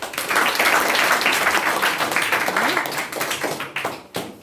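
Classroom applause from a group of students, sustained dense clapping that carries steadily for several seconds before thinning out and ending, with a faint voice underneath.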